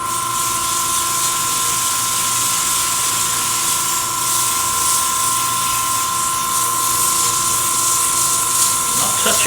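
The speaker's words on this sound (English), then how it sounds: "So this gives me a chance to do some sanding on the outside." A steady, loud hiss of sanding against a spinning miniature wooden box lid on a lathe, with a constant machine hum running underneath throughout.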